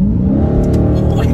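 Hemi V8 car engine revving hard as the gas pedal is pressed, a loud, close, throaty roar rising briefly in pitch over a short burst.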